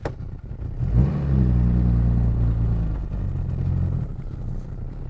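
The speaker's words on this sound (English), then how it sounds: "Let's just give it a little run up the road and see how she's doing." Pre-1963 Jaguar race car, road legal, taken for a short run up the road, its engine rumbling and revving steadily and fairly loud, with no talk.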